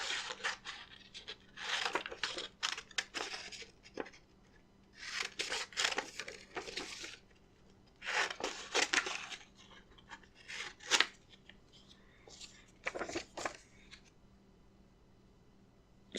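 Scissors snip around printed paper game pieces at close range, in repeated bursts of quick crisp cuts separated by short pauses.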